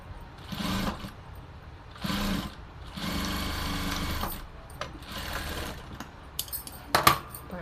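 Sewing machine stitching a shirt collar, running in short bursts of rapid mechanical whirring, several runs separated by brief pauses, ending with a few light clicks and taps nearby.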